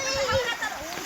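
Children splash and swim about in rainwater during a Kutch downpour, a steady churn of watery splashing with kids' voices mixed in close by.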